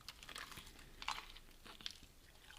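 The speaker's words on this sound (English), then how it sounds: "Listen to some more crunch." Fried chicken being eaten at a restaurant: faint, close crunching and chewing bites, crisp and irregular over a low room murmur.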